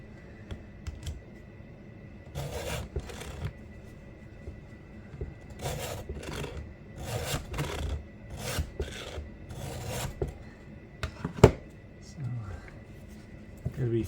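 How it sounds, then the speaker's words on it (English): A file is drawn by hand across the cutting teeth of a Stihl MS 462 chainsaw chain in short, repeated rasping strokes, several in a row with brief pauses between them, heard up close beneath a low background hum. "The other side, sharpen quite a bit more, or sharpen down quite a bit more."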